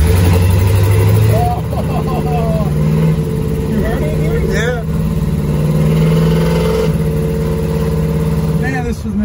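A Chevelle-type car with a worn-out, junk transmission revs hard and launches, its loud engine roar swelling and rising in pitch, with people talking over it nearby.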